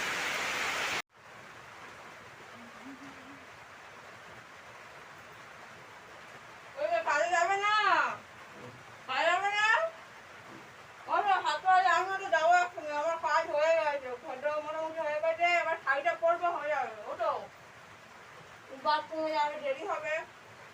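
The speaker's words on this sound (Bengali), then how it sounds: "দেখো বাইরে জোরে জোরে বৃষ্টি পড়ছে" Heavy rain pouring outside, a constant wash of hiss running the whole time beneath a person talking in bursts, steady and even in level from start to finish.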